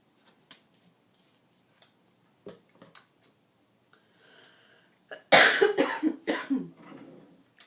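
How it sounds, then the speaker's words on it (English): A few soft clicks and small noises, then a loud, close burst of harsh coughing that breaks into several shorter coughs. "I'm so sorry about all this coughing"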